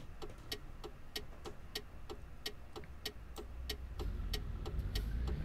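Iveco truck engine in Euro Truck Simulator 2, a steady low rumble with a regular ticking pattern on top, growing slightly louder toward the end, with no talk over it.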